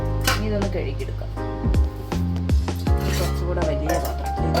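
Rice being washed in a metal pot for biryani: repeated clanks, scrapes and rattles of the vessel with an irregular rhythm, close and fairly loud.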